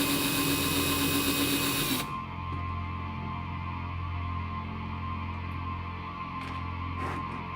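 A power drill drives long screws indoors, whirring loudly for about two seconds before dropping to a steadier, quieter hum that runs to the end.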